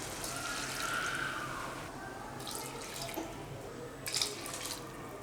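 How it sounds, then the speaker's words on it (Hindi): Water poured from a cup into a pot of soaked rice for biryani, a soft continuous splash and trickle close by, with a few louder splashes near the end and no talk. "और इसी कप के नाप से मैं 3 कप पानी ऐड करूंगी।"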